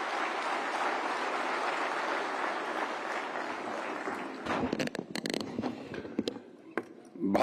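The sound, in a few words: audience applause welcoming the minister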